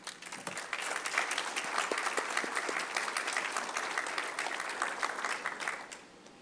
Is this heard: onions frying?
no